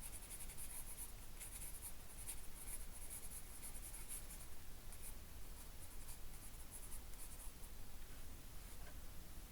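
A pen or pencil scratches steadily across paper while an ocean doodle is shaded in with tones and color, a faint, close, continuous hiss of strokes without pause or speech.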